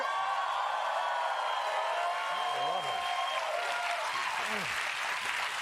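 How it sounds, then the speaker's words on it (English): Studio audience at a late-night talk show bursts into sustained applause and cheering, a dense steady wash of clapping heard alone without talk. "And the crowd goes wild"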